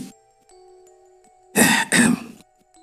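An old man clears his throat in a village setting, two gruff, rasping bursts in quick succession, close and fairly loud over a faint steady hum.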